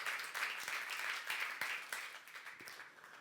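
A church congregation at a youth service applauds with steady, moderately distant clapping, a continuous wash of many hands that fades slightly toward the end, with no talk over it.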